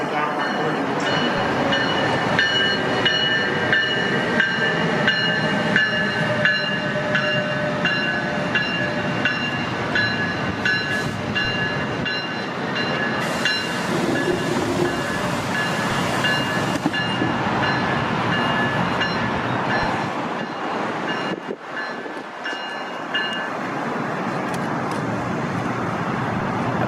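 NJ Transit train led by ALP-46 electric locomotive 4608 with cab car 7060 trailing passes close by in northern New Jersey, a loud sustained roar of wheels and rail with steady whining tones, fading slightly near the end.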